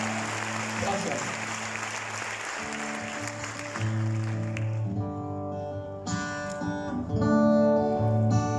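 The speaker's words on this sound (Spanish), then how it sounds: "le vamos a regalar un aplauso que le va a llegar al corazón" At a carnival show, the audience claps, a crowd sound that fades within a few seconds as sustained music with tonal instruments takes over.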